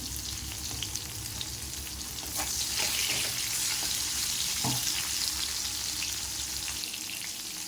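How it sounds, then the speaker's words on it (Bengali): Bitter gourd fries in hot oil with a little salt, giving a steady bright sizzle with a few clinks and stirring sounds and no talk. "সব মাছগুলো ভেজে নিয়েছি, এবার আমি ভেজে নেব উচ্ছে"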